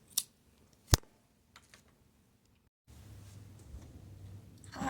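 A couple of sharp snips and clicks ring out in a quiet room, followed by soft rustling handling noise that grows toward the end.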